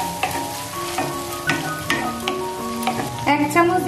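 Onion frying with Schezwan sauce crackles in a pan while a spoon stirs and scrapes, producing close, soft sizzling with tonal scraping squeaks and clinks over a steady background hum.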